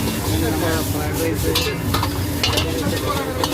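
Chicken fried rice sizzles loudly on a Nepali street food stall griddle, with rapid scraping and tossing strokes of a spatula in a continuous rhythm.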